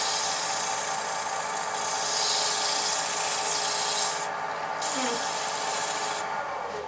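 Steady, continuous sanding of a wooden spoon, a dry scratchy rubbing that keeps going with slight shifts in pressure and no talking.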